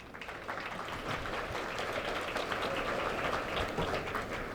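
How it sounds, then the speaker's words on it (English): Sustained applause from an awards gala audience, a dense steady patter of many hands clapping that stays fairly even and moderately loud throughout. "please give a round of applause"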